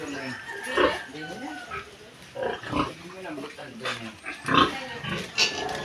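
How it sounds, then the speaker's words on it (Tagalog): Pigs and piglets at a farm hut grunt and squeal in repeated bursts, close and fairly loud, while people talk over them throughout. "Ang dami ng baboy."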